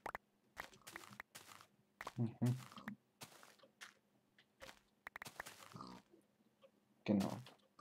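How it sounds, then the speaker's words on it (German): A pig in the video game Minecraft gives several short grunting oinks at irregular intervals, mixed with soft footstep and crunch effects against a quiet background. "Schweinchen."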